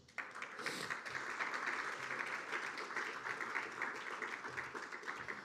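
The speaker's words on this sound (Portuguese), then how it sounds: "Uma salva de palmas." Audience at a legal forum on mass litigation gives a round of applause for a panel moderator, a dense, sustained clapping that starts abruptly and stays even, moderately distant, with no talking over it.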